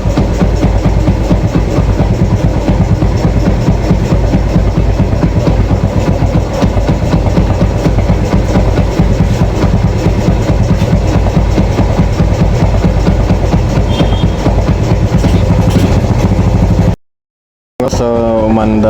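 A Yamaha FZ motorcycle engine runs steadily and loudly up close, with a dense low rumble and a rapid clanking rattle throughout, cutting out briefly near the end before restarting.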